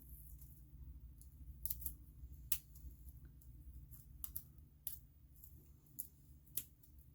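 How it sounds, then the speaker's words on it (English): Scissors trimming paper for a fairy pop-up box card, heard as soft, scattered snips and clicks over a low steady hum, faint and close with no talking. "this part is sticking out a little bit, so let me trim this off a little"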